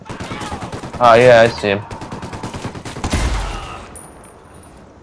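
Rapid machine gun bursts rattle loudly in a Ghost Recon Wildlands firefight, with a dense rapid volley followed by further shots and booms, while players talk over the gunfire.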